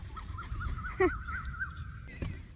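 Thin, wavering calls of bird chicks repeat steadily over low background rumble, with a brief sharper squawk partway through; moderately distant.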